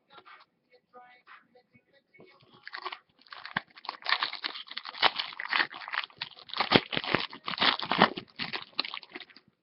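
Stuck-together Topps Chrome trading cards being peeled apart: close crinkling and crackling tears in irregular bursts, sparse at first and then busier and louder.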